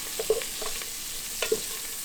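Garlic sizzles softly in a pan, a faint steady hiss broken by a couple of quick stirring scrapes, with no talk over it.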